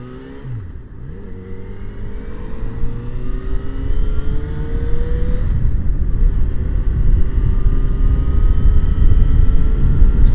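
A Yamaha XJ6F motorcycle cruises at 40 mph, its engine a steady mid-pitched drone wrapped in heavy, constant wind roar close to the microphone, with slight gear-like pitch sweeps early on and no speech.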